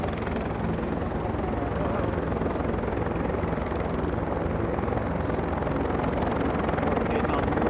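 Steady, loud helicopter rotor and engine roar filling the whole stretch, close by, with no pauses.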